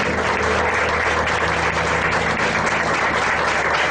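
A church congregation at a Baptist home worship service applauds steadily, a dense, even wash of clapping that holds at the same loud level throughout with a faint low hum beneath.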